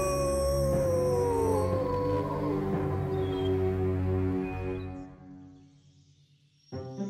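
The big bad wolf in a children's cartoon howls in a long, loud, falling howl that fades out, followed by a brief swell of background music at the end.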